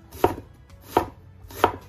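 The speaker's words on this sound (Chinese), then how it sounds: "我们切点大姜" Knife cutting fresh ginger into thick slices on a cutting board: three crisp, evenly spaced chops about two-thirds of a second apart, close and clear over a quiet kitchen background.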